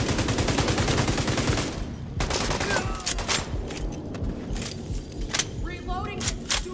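Bursts of rapid gunfire in The Division 2, loud and dense at first, then thinning into scattered shots and clatter amid a chaotic firefight.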